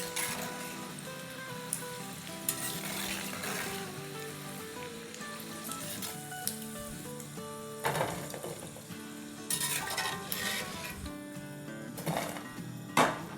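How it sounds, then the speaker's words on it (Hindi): Pakoras with chillies and green coriander fry in hot oil with a continuous close sizzle and crackle, broken by occasional louder bursts and utensil clinks, with no talking. "इनको भी बस इसी तरह फ्राई कर लेंगे"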